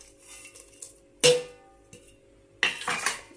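A spoon clanks sharply against a cooking pot twice while cashews and raisins are stirred into simmering paruppu payasam, with quieter scraping and stirring sounds between the clanks.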